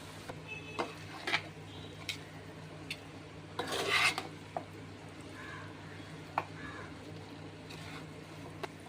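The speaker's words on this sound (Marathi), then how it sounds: "आता हे चांगलं मिक्स करून घ्यायचंय" Cooked noodles being stirred and tossed with packet masala in a small pot, giving intermittent scraping and rasping strokes with one louder burst of stirring midway, fairly quiet against a low steady hum.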